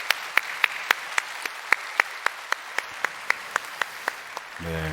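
A church congregation at a Sunday service clapping together in a steady, even rhythm, sharp regular claps echoing in a large room, fading out at the end.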